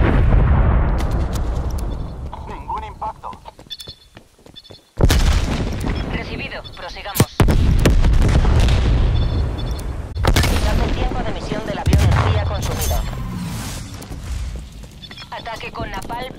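Artillery strike explosions in Call of Duty: Black Ops Cold War rumble as a run of loud booms and blasts, with a sharp crack near the middle, under game voice announcements.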